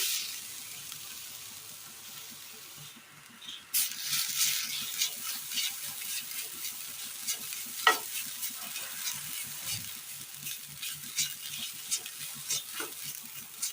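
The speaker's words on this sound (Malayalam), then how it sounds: "തേങ്ങയൊന്ന് റോസ്റ്റ് ചെയ്തെടുക്കണം ഒരു ബ്രൗൺ കളറാകും വരെ" Grated coconut stirred and roasted in a pan until brown, giving a steady close sizzle with scraping spoon strokes that pick up sharply after a few quiet seconds and carry on without any talk.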